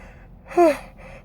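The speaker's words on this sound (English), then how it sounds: "Yes, I'm yawning." A person yawns once behind a covered mouth, a brief, close, breathy sound that rises and then slides down in pitch, with no words spoken.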